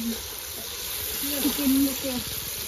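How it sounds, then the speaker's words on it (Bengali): Onions sizzle and crackle steadily in hot oil, frying for chicken curry at an outdoor picnic, with people talking nearby over the sizzle. "আমাদের এখন মাংসের জন্য পেঁয়াজ ভাজা হচ্ছে"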